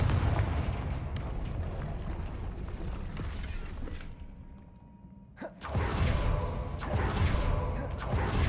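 Confringo fire spell explosions in the video game Hogwarts Legacy, loud rumbling blasts with a quieter gap, then a sharp burst and renewed roaring fire.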